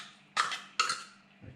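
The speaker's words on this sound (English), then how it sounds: "Now I'll put the tuna inside." Tuna being added to a salad bowl, two close clattering knocks of a utensil against the dish, then a soft thump, all fairly quiet.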